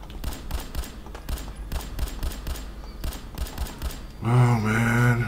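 Rapid gunfire in the video game Fallout 4, a string of sharp repeated shots at moderate level, followed by a sustained tonal game sound at the end.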